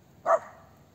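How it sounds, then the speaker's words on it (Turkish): One of three dogs confronting others outdoors in a forest camp area gives a single short, moderately loud bark that fades quickly into quiet background. "3 tane köpek var onlara kafa tutuyor."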